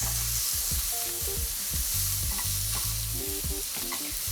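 Apples and sweet potato hash frying and being stirred in a pan, with repeated scraping and clattering strokes over a steady sizzle, close and fairly loud.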